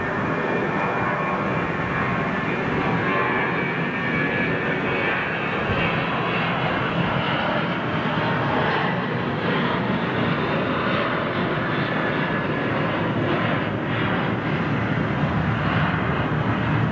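A heavy jet airliner lands hard on its main gear with a loud, steady roar of jet engines that fills the whole stretch without a break.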